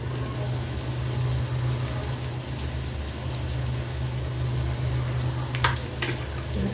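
Red and green capsicum with chopped chillies sizzle steadily in a pan, a constant crackling fry with occasional stirring clinks toward the end.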